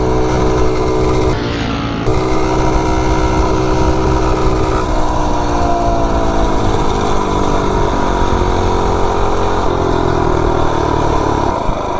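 A 98cc billet, cammed mini bike engine runs continuously, a loud buzzing drone whose pitch climbs and settles at high revs, heard close throughout.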